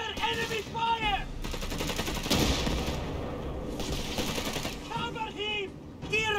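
Machine-gun and rifle fire in the real-time strategy video game Company of Heroes 3, set in the North African campaign, with rattling bursts under battlefield noise and shouted voices at the start and end.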